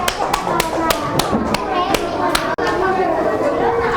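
Children in an Indonesian classroom clap for their group, steady rhythmic claps from several hands close by, running under chatter and young voices.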